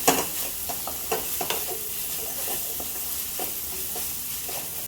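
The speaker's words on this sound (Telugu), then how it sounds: "వేసి బాగా మిక్స్ చేసుకుంటున్నాను" Onions with chili powder and salt are stirred in a hot pan, the steady sizzle broken by scattered scraping strokes of a spoon against the pan. No voices are heard.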